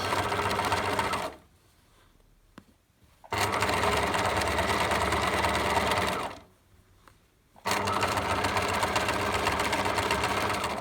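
Sewing machine stitching a fabric face mask, running in three steady, loud bursts with two short pauses between them, the motor's even whir continuous during each run.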